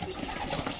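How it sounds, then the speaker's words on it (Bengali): Chili pigeons coo softly at close range, a few low, throaty murmurs overlapping in a short burst. "এই যে চিলি কবুতরগুলো দেখতেছেন"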